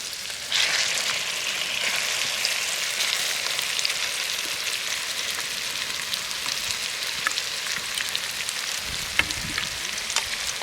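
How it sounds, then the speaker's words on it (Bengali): A potato and cauliflower mixture fries in hot oil, giving a steady, loud sizzle throughout with a few small scrapes and stirring clicks near the end. "এবার ভালো করে একবার তেলের সাথে এই আলু ফুলকপিটাকে নেড়ে নেব"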